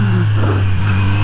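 A 2020 Kawasaki Z900 motorcycle engine runs close by on a rough road, a strong steady drone with a slight rise in revs, loud and alone.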